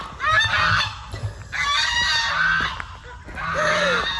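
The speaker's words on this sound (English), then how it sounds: "It's going to take a minute for the geese to calm down." Geese honk loudly in three long noisy bursts, several birds calling over each other nearby, with brief quieter gaps between.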